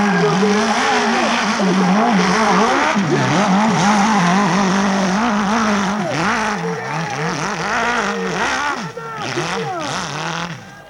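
A rally car races up the hill at the 1992 Arette hill climb, its engine wailing and revving up and down in repeated surges with tire noise, loud and continuous while a commentator talks over it.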